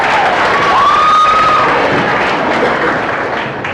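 Audience applause and cheering for a player receiving a team award, a loud, sustained crowd roar with shouts and whistles that fades slightly toward the end.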